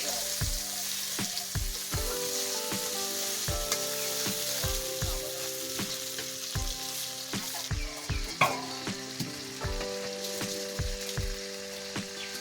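Spices fry in a wok for a Bengali chapila fish curry, a constant crackling sizzle punctuated by regular knocks of a spoon stirring against the pan.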